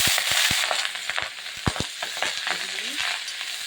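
Kohlrabi greens tossed into hot oil with shrimp, giving a crackling sizzle with a quick run of sharp pops and clatters at first, then a denser, steady frying hiss with occasional stirring knocks, close by.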